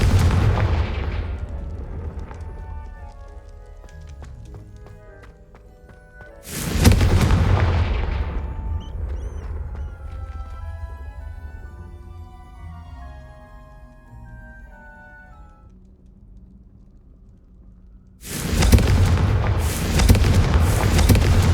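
Confringo blasting-spell explosions in Hogwarts Legacy, two heavy booming blasts about twelve seconds apart, each with a long rumbling tail, with ringing tonal game effects between them.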